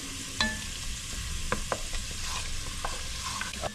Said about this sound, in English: Let this fry up nice and golden brown.